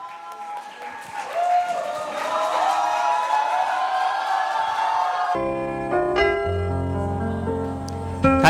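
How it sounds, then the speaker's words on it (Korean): A student festival audience at a Korean university breaks into crowd noise, clapping and cheers for about five seconds. Then music with a steady beat and sustained tones comes in, marking the start of a Chinese international student's song performance. "큰 박수로 환영해 주십시오."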